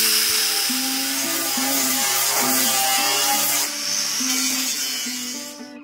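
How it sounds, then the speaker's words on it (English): Power tools grind and strip a stretched Land Cruiser's body down to bare metal, a loud continuous whine that pulses up and down in pitch, close and without talk. "more serious tools were being used to get down to the bare metal"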